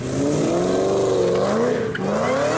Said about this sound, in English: This is what a car sounds like.